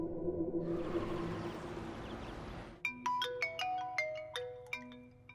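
A loud burst of noise cuts off, then a phone's melodic electronic ringtone on an outgoing call plays a series of bright chiming notes in a repeating rhythm, close and clear.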